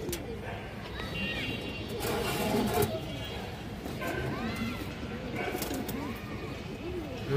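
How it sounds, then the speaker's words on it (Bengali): A male Army breed pigeon coos in soft repeated phrases, close by. Voices and a faint background murmur carry on underneath. "সুন্দর একটা আর্মি নর কবুতর মাশাআল্লাহ"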